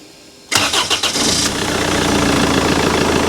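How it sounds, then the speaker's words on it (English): Rover 75 car with an EGR delete starting up: a short cranking burst of the starter, then the engine catches and settles into a loud, steady idle rumble close by. "Sam's going to start the car up, so we'll see how it sounds."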